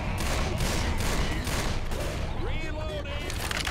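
Rapid gunfire from Left 4 Dead 2 crackles continuously at a loud, steady level throughout, with a player's voice talking over the shooting.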